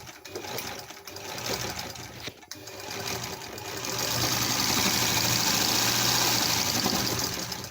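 An old Singer sewing machine, freshly fitted with a new motor after sitting unused for 20 years, starts up and runs steadily with a whirring mechanical drone that grows louder and busier halfway through.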